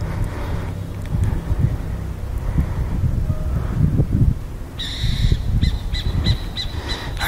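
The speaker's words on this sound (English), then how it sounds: "I know that's a bird." A bird calls repeatedly in a series of short, sharp notes over a blustery outdoor wind rumble.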